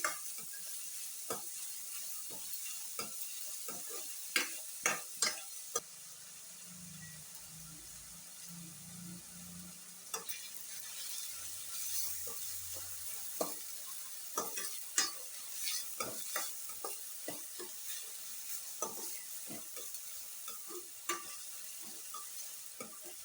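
Onions frying in a pan for a brinjal and yam tamarind curry, with a soft continuous sizzle beneath sharp scraping clicks as a spoon stirs them at irregular intervals, close and fairly quiet.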